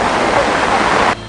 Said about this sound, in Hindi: नदी नाले उफान पर हैं।